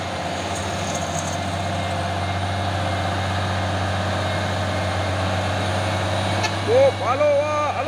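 A UD Trucks UD Twister trailer container truck rumbles with a steady low engine drone throughout, close and continuous, with voices speaking briefly near the end.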